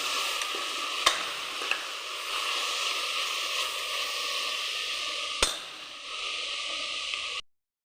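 Onions sauté in a hot pan for a squid fry, giving a steady close sizzle with a couple of sharp utensil clicks before the sound cuts off abruptly.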